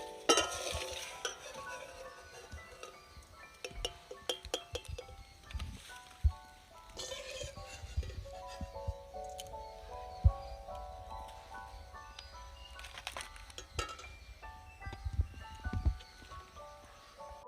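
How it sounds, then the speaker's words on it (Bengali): Peanuts frying in oil in a pan for spiced fried flattened rice (chire bhaja), heard as a soft sizzle with scattered clinks and stirring knocks of a spatula against the pan, close and steady throughout, over a faint musical background. "ভালো করে বাদামগুলো এবার ভেজে নেব"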